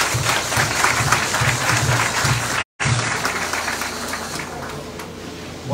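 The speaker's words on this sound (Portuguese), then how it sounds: "Uma salva de palmas, gente" Crowd applause for an Indigenous union representative at an outdoor political campaign rally in Brazil, dense steady clapping with a brief dropout midway, then tapering slightly before swelling again at the end.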